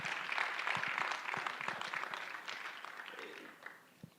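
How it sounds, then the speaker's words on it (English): Audience applause at a live broadcast event, a full round of clapping that is strongest at first and gradually thins and fades toward the end, with a few isolated claps at the close. "let's give him another round of applause"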